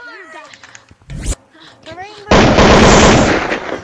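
Gunfire in Gorilla Tag, a virtual-reality game: a short loud burst around the middle, then a dense sustained volley of loud rapid shots to the end, following excited shouting.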